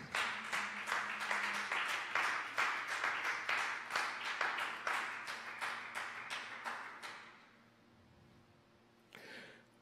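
A church congregation claps steadily in rhythmic unison, loud and close, for about seven seconds before the clapping stops, leaving a quiet pause broken by a brief final noise.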